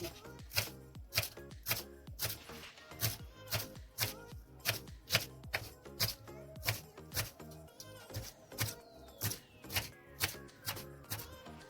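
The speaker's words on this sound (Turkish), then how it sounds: "Daha sonra yarım demet maydanoz doğruyoruz" Steady, rapid knife chops through parsley on a cutting board, a brisk rhythmic tapping that continues throughout without any talking.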